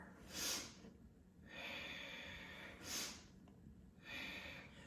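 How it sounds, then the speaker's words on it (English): Two sharp, forceful nasal sniffs during a yoga breathing exercise, each followed by a longer airy exhale, repeating in a steady rhythm up close with no talking. "It feels like I'm taking a big sniff of something."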